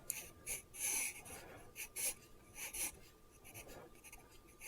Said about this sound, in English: I have some Fabriano mixed media paper, and we're just going to draw something quick